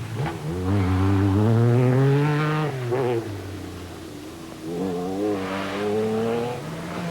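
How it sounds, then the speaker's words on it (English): An MG Metro 6R4 rally car at the 1986 RAC Rally revs hard and loud, rising as it accelerates through the gears. It drops briefly, then a second strong pass follows, close by. "The MG Metro people must have been very pleased with the progress of Gillanders in their new car"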